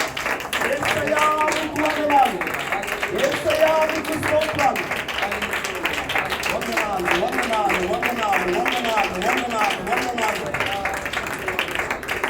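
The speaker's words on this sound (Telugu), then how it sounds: "అందరం కూడా ఒకసారి గట్టిగా చప్పట్లు కొడదాం" A congregation at Sunday prayer claps loudly and steadily together, a dense, fast patter of many hands that lasts throughout, with voices mixed in.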